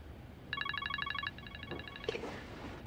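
An electronic telephone ringtone trills in quick repeated bursts, starting loud and clear and then continuing more softly, with a brief soft knock near the end in an otherwise quiet room.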